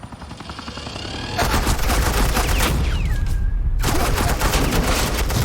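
Suppressing gunfire in Batman: The Enemy Within bursts in after a quiet opening, a dense, continuous automatic barrage that stays loud to the end.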